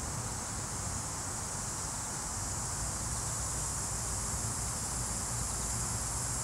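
Locusts or June bugs drone outdoors in a continuous, dense, high-pitched insect buzz that fills the background evenly throughout, with no pauses.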